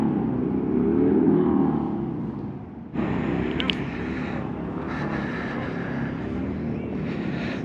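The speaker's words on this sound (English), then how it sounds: "Another plane." An airplane flying past the USS Hornet, an Essex-class aircraft carrier, a loud roar that swells and then gives way to wind and a rumbling hum, with voices partly over it.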